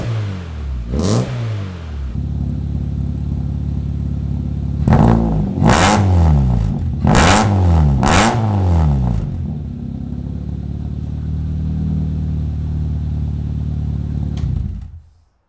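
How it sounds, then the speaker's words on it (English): Car fitted with a new Misch's XL Garage racing exhaust, revved hard in four loud bursts over a rumbling idle, the engine rising and falling sharply before settling and cutting off. "A new Misch's XL Garage racing exhaust."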